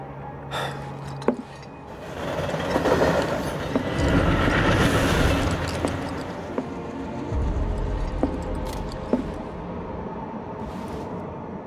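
Train running on rails in the Final Fantasy 7 Remake video game, a steady rumbling ride with rising and falling intensity and occasional sharp clanks and clicks over about twelve seconds.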